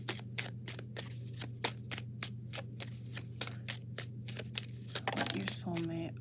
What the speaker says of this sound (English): But let's get some more cards here.